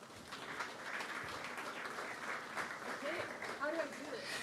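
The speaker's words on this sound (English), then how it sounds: "give her a warm round of applause" Steady crowd applause fills the room throughout at the Freestyle Chess Grand Slam in Weissenhaus, with a few voices faintly audible beneath the clapping.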